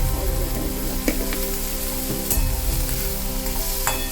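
Onion, tomato and ginger fry with turmeric in a pan for Bengali moong dal with fish head, giving a loud, dense, continuous sizzle with a few faint stirring clicks and no talking.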